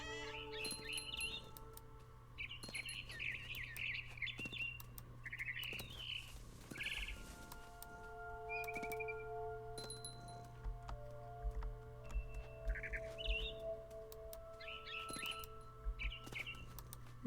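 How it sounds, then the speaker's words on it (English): In a video game, a barn swallow chirps outside a window near her nest, giving faint, scattered high twitters and short trills in irregular bursts over a low steady hum. "I heard chirping outside my window. It was a barn swallow going back to her nest."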